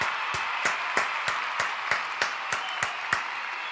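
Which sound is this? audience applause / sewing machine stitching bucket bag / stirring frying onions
audience applause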